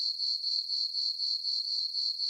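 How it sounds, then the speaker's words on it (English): Crickets chirp in a steady, evenly pulsing trill, played as a comic sound effect, loud and isolated with nothing else heard. "Crickets."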